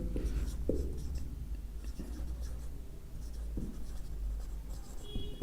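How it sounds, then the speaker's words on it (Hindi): Pen or marker writing by hand on a board during a geography lesson on Indian states and rivers, a steady scratchy scribble with short strokes and taps, fairly close, with no talking over it. "यहां पे लिख देता हूं पूरा ही"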